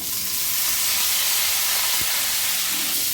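Boiled vegetables for a Bengali dal shukto land in a pan of frying ginger and garlic, making a loud, steady, close hiss and sizzle with one brief knock partway through and no talking.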